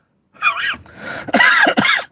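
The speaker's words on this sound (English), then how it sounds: "I'm not laughing, I'm coughing." A person coughs and clears their throat several times in quick, close bursts. The sounds are harsh and breathy.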